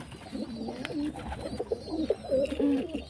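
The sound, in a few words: pigeon cooing while sitting on eggs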